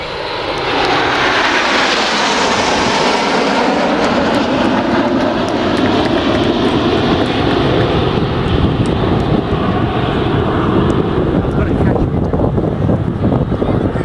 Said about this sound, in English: this is Concorde